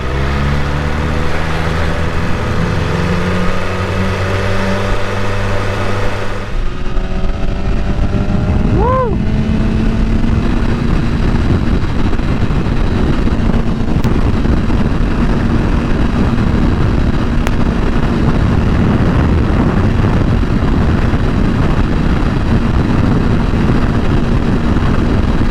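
A 2021 BMW S1000RR sport motorcycle lane splits on a Florida road, its engine loud and close with rising and falling revs and gear changes, plus constant wind roar and passing traffic.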